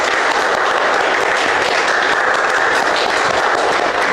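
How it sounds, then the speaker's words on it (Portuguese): Church congregation at a communion service clapping in praise, loud, dense and continuous applause filling the room with crackling hand claps, no speech over it. "Vamos dar para o Senhor uma linda salva de palmas?"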